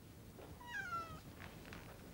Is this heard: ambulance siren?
no